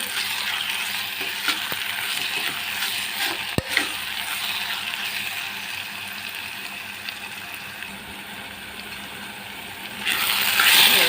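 Sliced onions with salt are stirred in a hot frying pan. A steady sizzling hiss runs throughout, with a brief clack midway and a louder surge of frying near the end.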